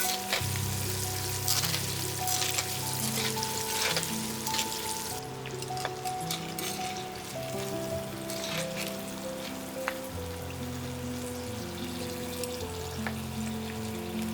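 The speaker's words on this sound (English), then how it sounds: "in goes some dried chilies and fry until crispy" Dried chilies and kaffir lime leaves crackle in hot oil with a steady frying sizzle that continues throughout, partly under a layer of tonal music.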